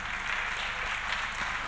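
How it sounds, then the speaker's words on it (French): A hall audience gives Luc Ferry a steady, dense round of applause at an association conference, the clapping continuous and even throughout without speech. "Je vous demande, s'il vous plaît, de faire un tonnerre d'applaudissements pour Luc Ferry"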